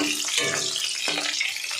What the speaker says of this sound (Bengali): কত সুন্দর দেখুন ভাজা হচ্ছে,